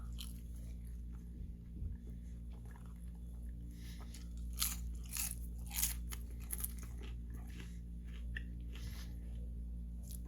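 Close crunchy bites and chewing of seasoned barrel fries served with a Carolina burger, a few sharp crunches in the middle over a low steady background hum, no talking.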